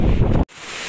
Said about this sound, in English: It's starting to get windy up here.